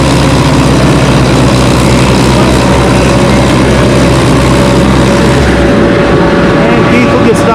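A gasoline Super MTA tractor roars under heavy load while pulling a sled at a fall tractor pull in Lynden, a loud sustained low engine drone with a crowd and an announcer's voice mixed in.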